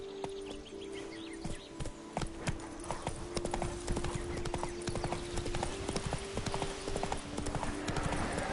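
Horse hooves clopping in a fast rhythm on the ground in The Witcher 3 game, steady and close, with a sustained tonal hum underneath.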